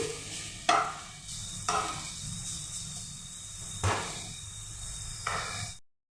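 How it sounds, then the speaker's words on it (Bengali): Papaya pieces drop into a pan of hot fat after cashews and raisins, giving several bursts of sizzling and stirring scrapes separated by quieter frying hiss, close and moderately loud. "এখন আমি পেঁপেটা দিয়ে দিচ্ছি।"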